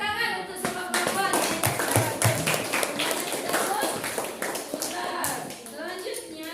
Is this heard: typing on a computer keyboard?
no